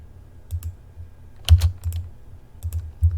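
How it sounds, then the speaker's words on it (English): Computer keyboard keys pressed in CAD software while sketching, mostly the spacebar repeating a fillet command: a handful of soft, close clicks and thuds spread unevenly over a few seconds, with one firmer press in the middle. "I'm pushing spacebar to repeat that last fillet command."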